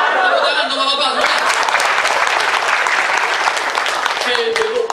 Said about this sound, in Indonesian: Tepuk tangan untuk bapak-bapak semua